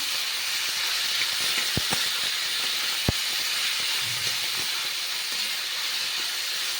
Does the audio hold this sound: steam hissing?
yes